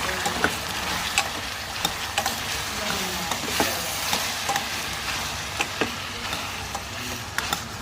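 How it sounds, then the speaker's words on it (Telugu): Capsicum and tomato pieces fry in a pan, a steady close sizzle broken by frequent sharp clicks and scrapes of stirring, with no talking. "క్యాప్సికం ముక్కలు టమాటా ముక్కలు అయితే కలిపి వేసుకున్నాం"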